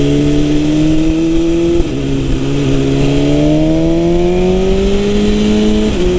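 A 2021 BMW S1000RR motorcycle accelerates hard onto a highway. Its loud engine note climbs steadily in pitch, with two brief gear-change dips along the way, and runs alone and close throughout.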